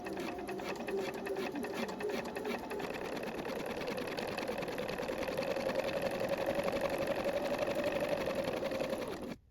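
A sewing machine runs continuously, stitching along the assembly seam of a top, its steady mechanical whir close and alone for nearly the whole stretch before stopping abruptly at the end.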